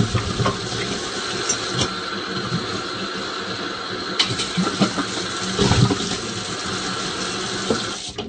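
Water runs and splashes while a hookah vase is rinsed clean of foam residue, a continuous loud gushing stream with sloshing bursts and a few knocks, cutting off abruptly at the end.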